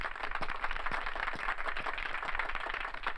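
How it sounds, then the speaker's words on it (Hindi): Steady applause from an audience: dense, continuous clapping at moderate loudness that holds evenly throughout, with no voices over it. "तालियां"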